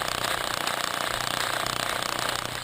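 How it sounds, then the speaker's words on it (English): Steady, continuous grinding roar of a carbide core bit dry-drilling through a concrete curb, loud and close, with no pauses throughout. "What I'm using here is called dry core drilling"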